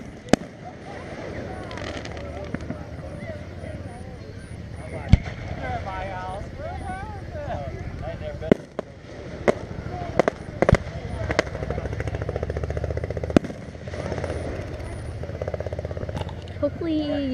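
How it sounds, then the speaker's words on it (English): Fireworks bursting outdoors at night, with sharp scattered bangs and crackles under continuous talking and crowd noise. "And these are really cool fireworks"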